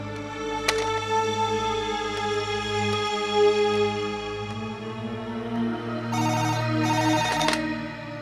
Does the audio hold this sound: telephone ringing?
yes